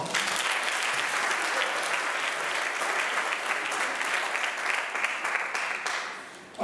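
Steady applause from an audience at a school athletic awards night in honour of a girls volleyball team, sustained clapping that tapers off toward the end.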